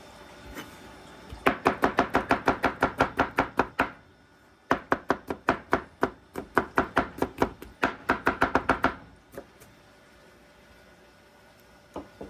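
Finely chopping celery on a board with a handmade knife: three quick bursts of sharp, evenly spaced knife strikes, each run of about a dozen chops separated by short pauses, close and clear.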